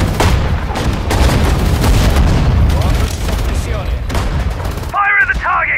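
Artillery and small-arms gunfire in the WWII strategy game Sudden Strike 4, Battle of Mareth Line, March 1943: dense, continuous booms and shots at loud level, with a brief burst of short voiced calls near the end.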